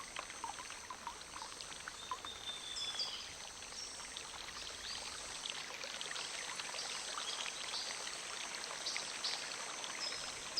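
Water runs continuously down stone paths and stairways in an ancient abandoned jungle city, a steady close rushing and trickling stream with no voices.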